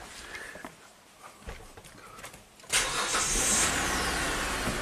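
A Hyundai car with a tachometer fault cranks briefly and then starts, its engine settling into a steady loud idle after a few quiet clicks and rustles, nearby and with no talk.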